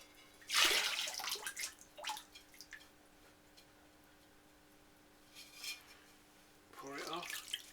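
Nuka glaze splashes and pours into a pottery bowl in a couple of short bursts, with quiet pauses between, close by.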